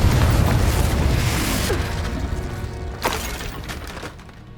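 Confringo explosion spell cast in Hogwarts Legacy, a booming blast with a sharp burst near the three-second mark over a dense, rumbling game-combat background.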